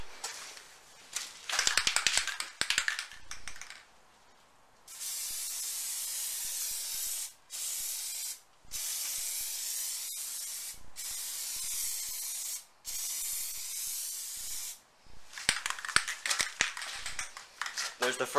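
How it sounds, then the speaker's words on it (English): An aerosol can sprays tint onto car headlights in a series of long, loud hissing passes with brief gaps between them, preceded by rattling and handling noises, heard up close. "So I'll show you painting mine now."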